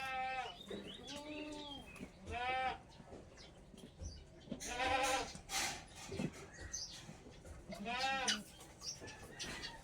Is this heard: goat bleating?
yes